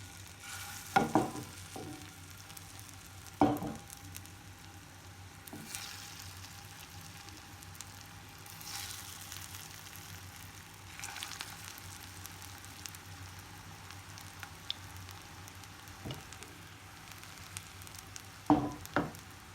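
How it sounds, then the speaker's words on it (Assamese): Pumpkin cutlets sizzle in hot oil, a steady frying hiss broken by several louder sputters and crackles as pieces go in and are stirred, close and alone. "তেলটো গৰম হোৱা আৰম্ভ হৈছে এতিয়া এটা এটাকে দি দিম"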